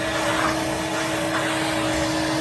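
Vintage Electrolux 302 vacuum cleaner running, a steady loud motor drone with a constant tonal hum and airy rushing, close and unbroken.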